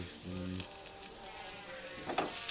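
Garlic fries in a ceramic pan, giving a soft steady sizzle near the mic with a short tonal bleat-like sound early on and a brief louder crackle of stirring toward the end.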